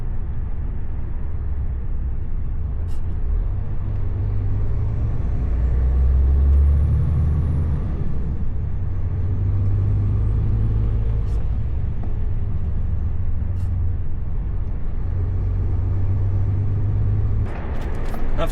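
London road traffic with buses and lorries: a steady low engine rumble and passing vehicles, then a sharp hiss of an air brake near the end, no talking.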